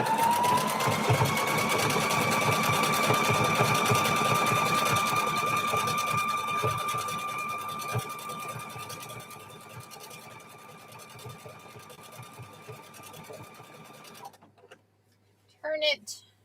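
Sewing machine stitching steadily around a quilt made from old jeans, a continuous close whirring hum that gradually softens and then stops near the end, followed by a few faint clicks.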